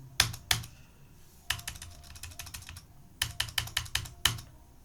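Typing on a computer keyboard while entering data in TallyPrime accounting software, close crisp key clicks in short bursts separated by pauses, with no talking.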